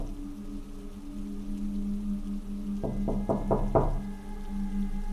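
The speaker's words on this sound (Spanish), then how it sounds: "Toqué su puerta insistentemente" Five quick, insistent knocks on a door in a quiet room, sharp and close, against a steady low background hum.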